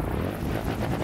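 Helicopter rotors spinning in the video game Trailmakers, a brief, continuous whirring throb with rhythmic pulsing, fairly loud, without talk.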